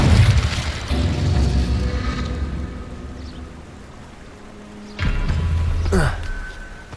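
The Incendio fire spell in Hogwarts Legacy hits twice as deep whooshing booms, one at the start that fades into a low rumble and a second surge about five seconds in, each trailing off with a crackling burn.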